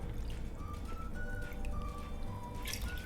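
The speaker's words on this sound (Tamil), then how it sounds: "நான் 2 cups தேங்காய் பால் வந்து ஆட் பண்ணுறேன்" Coconut milk poured into a pot of prawn biryani, a steady liquid pour and trickle running continuously and fairly close, with a faint clink near the end.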